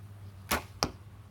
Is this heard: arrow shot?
yes